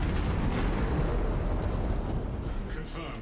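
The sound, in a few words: explosion of detonated charges in the video game Space Marine 2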